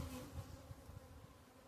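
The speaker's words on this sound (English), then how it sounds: "It's loaded with bees." A dense, low buzzing hum of many bees swarming close by on a hive frame, steady and unbroken, with no voices.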